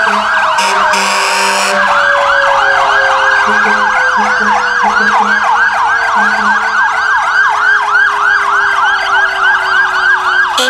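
A loud wailing fire truck siren cycles rapidly up and down, steady and close, with a deeper engine rumble beneath it, at a Christmas parade.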